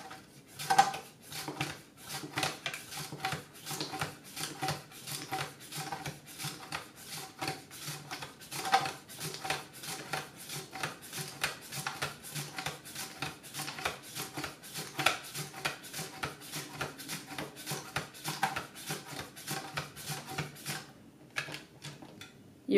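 Cucumber is sliced on a Swissmar Borner V-Slicer mandoline, giving fast, steady, rhythmic swishing cuts, each followed by a light clack, repeated for over twenty seconds at moderate volume.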